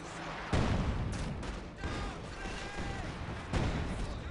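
leIG infantry guns firing in Company of Heroes 2, loud booming shots over dense battle noise with a couple of sharp reports standing out, some faint tonal whistles mixed in.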